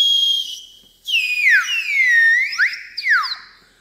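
A flute plays clear, bright sustained notes with sliding pitch glides and short gaps between phrases, close and alone without talk.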